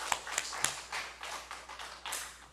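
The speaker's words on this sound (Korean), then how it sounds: "자 하나님께 영광의 박수 올리겠습니다." A church congregation clapping in praise: faint, rhythmic bursts of applause in a steady beat, heard at a distance in a large room.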